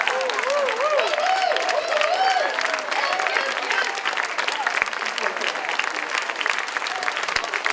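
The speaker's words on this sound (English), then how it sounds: "Applause and a bow." A theater audience at Lake Chapala applauds the stage crew as they take a bow, dense sustained clapping with scattered cheers and whoops over it, and voices mingling throughout.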